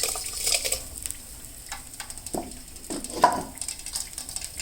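Rice and milk being stirred in a pot for sweet pongal, producing soft scraping and sloshing strokes at an irregular pace, close up, with a faint steady hiss underneath and no talking.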